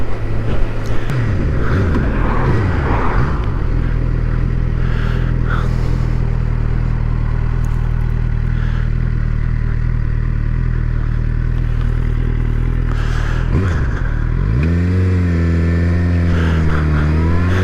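A Suzuki GSX-R750 motorcycle engine runs loud and steady while riding, with a low sustained drone that rises in pitch as it accelerates near the end.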